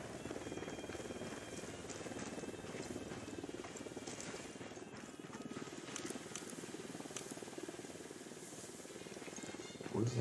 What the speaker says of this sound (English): Where's the helicopter? I'm gonna shoot it down.